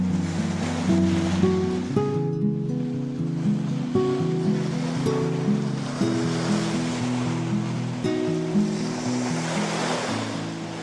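Surf at Loch Ard Gorge beach on the Great Ocean Road, a steady loud wash of breaking waves with wind, continuous and close, no voices.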